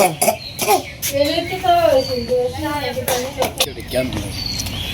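A person coughs in a few sharp bursts scattered through the stretch, mixed with high, sing-song voices and background chatter close by.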